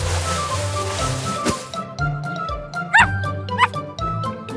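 An animated puppy lets out several short, high yips and barks over cartoon background sounds and music in a children's show about building with blocks.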